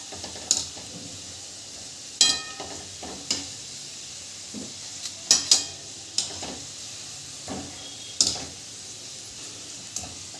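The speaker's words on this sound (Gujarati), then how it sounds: "આપણે મીડિયમ ગેસ પર આ રીતે હલાવતા જઈ અને કચોરીને તળી લેશું" Stuffed green pigeon pea kachoris deep-frying in oil over medium flame, with a soft steady bubbling broken by sharp clinks and scrapes of a slotted spoon as they are turned, close and without speech.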